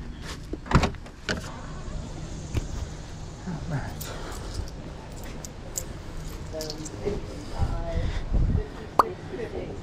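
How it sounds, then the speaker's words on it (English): A car's trunk is popped open with a few close mechanical clicks and thumps, amid scattered handling noises at a garage sale while people talk nearby. "Pop the trunk."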